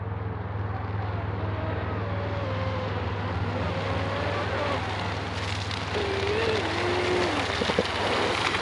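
A 36-inch RC catamaran boat runs on water after repairs, its motor holding a steady high whine with a constant low drone and wind buffeting, rising slightly in pitch and loudness toward the end.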